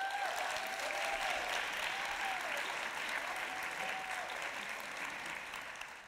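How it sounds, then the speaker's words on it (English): An audience claps to vote true in a quiz during a conversation with Jeff Goldblum at Capitol Studios, a steady round of applause mixed with faint whoops that slowly fades. "Applause for true."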